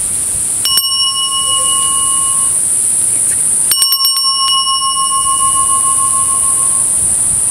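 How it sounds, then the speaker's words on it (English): A small metal bell inscribed with a triple moon rings close and clear inside a little plastic baggie, giving two bright strikes a few seconds apart, each leaving a long shimmering ring that slowly fades. "in this little baggie, I hear the bell"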